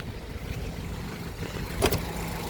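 A 1990 Toyota Starlet EP80 with a 1.0 engine idles smoothly and steadily outdoors, a low continuous running hum with a brief louder burst near the end.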